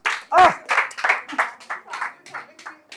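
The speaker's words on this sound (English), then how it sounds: "A round of applause for him." Applause from an audience at a live scriptwriting training session, a short burst of separate claps with a loud one near the start, thinning and fading over a few seconds.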